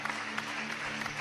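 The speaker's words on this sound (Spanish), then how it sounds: "Un aplauso fuerte al Señor." Applause from a church congregation, a dense, steady wash of clapping filling the room for about a second, mixed with a sustained tonal hum beneath it.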